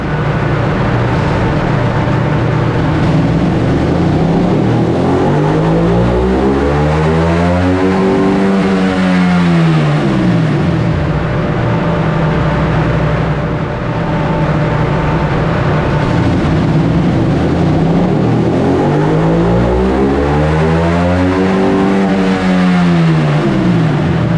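A 2024 Ducati Panigale V2 with a 955cc engine runs on a dyno, loud and close, its engine note climbing and falling in two long sweeping revving pulls over a constant roar.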